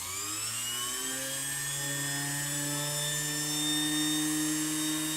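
A ring being drilled with cutting lubricant gives a steady high-pitched whine with strong tonal harmonics. It rises slightly in pitch and holds for about five seconds, close up and with no talking.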